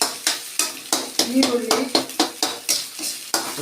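Beans added to a frying pan for avarakkai palya and stirred, a spoon scraping and clinking against the pan in a quick, steady rhythm over a soft sizzle.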